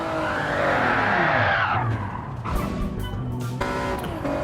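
A race car in Gran Turismo spins out, its engine roaring as tires screech and skid, followed by scraping and bumping sounds, all loud and close.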